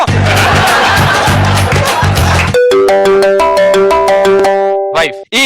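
A mobile phone ringtone plays a bright, repeating electronic melody for about three seconds on a television comedy stage, right after a loud burst of audience laughter and chatter.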